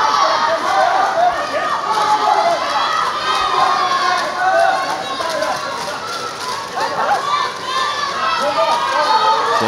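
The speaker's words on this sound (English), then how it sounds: "Crowd building up to fever pitch here." A loud, roaring crowd cheers and shouts continuously through a women's +67kg taekwondo final at the Manchester World Grand Prix, the noise sustained and building without a break.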